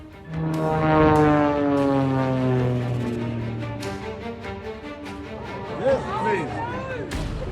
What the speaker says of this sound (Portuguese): Este avião entrou em um mergulho irreversível.